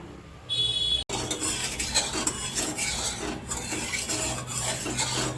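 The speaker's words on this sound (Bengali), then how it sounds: "কড়াইটা বসিয়ে দিলাম, সরষের তেল দিয়ে দিলাম" A metal wok is set on the stove and mustard oil goes in, bringing a sharp clatter followed by continuous scraping, rubbing and faint sizzling at close range.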